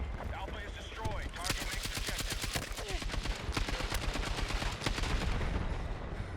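Sustained light machine gun fire from a KTS100 MK8 in the shooter game Battlefield 6, long rapid-fire bursts of sharp evenly spaced shots, loud and close, with someone talking over parts of it.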